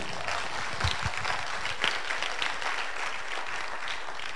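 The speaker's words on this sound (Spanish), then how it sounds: "Denle un aplauso al Señor en esta hora." A church congregation claps during a sermon, steady, moderately loud applause with a few sharper individual claps standing out, sustained throughout.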